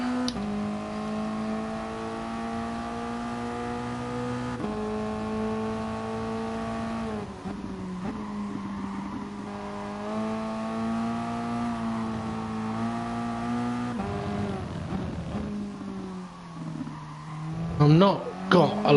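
A Toyota race car engine in a racing video game, practising at Brazil, drones steadily with harmonic tones that rise and dip through gear changes and corner braking, while a voice talks over it throughout.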